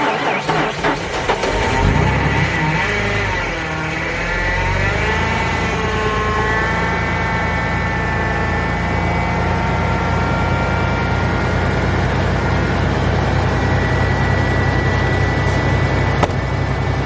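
An old truck engine cranks and catches after a -25°F night, then settles into a steady, loud idle that runs on without a break, with nobody speaking.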